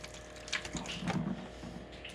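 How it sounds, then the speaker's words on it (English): A thin trickle of water pours steadily into the channels of an egg incubator beneath the eggs, close and quiet, with a soft splash partway through. "I'm gonna add some water in these channels, trying not to get it on the eggs"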